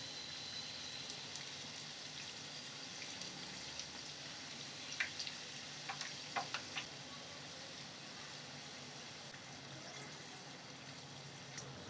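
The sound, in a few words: karjikayi pastries frying in oil on medium flame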